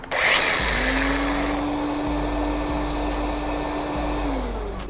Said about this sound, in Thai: เดี๋ยวมาทดสอบการใช้งานนะว่ามันคอนเนคกันหรือยังนะครับ โดยการกดที่เครื่องกรีดผนังตัวเดียว